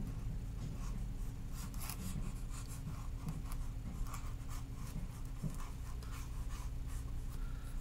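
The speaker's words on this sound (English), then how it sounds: "scribbling is totally an acceptable rendering method where you do something like this" Scribbling a continuous contour drawing on paper makes a faint, steady scratching and rubbing that runs throughout at close range, with the strokes coming in an irregular rhythm.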